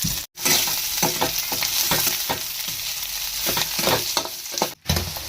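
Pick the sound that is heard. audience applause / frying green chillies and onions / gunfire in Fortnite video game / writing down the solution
frying green chillies and onions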